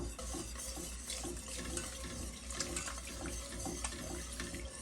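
Milk being whisked into a cooking mixture to smooth out lumps, a steady wet stirring and sloshing that runs continuously at close range without pause.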